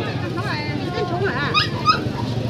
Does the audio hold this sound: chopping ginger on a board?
no